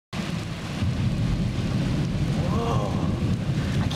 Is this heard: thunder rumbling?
yes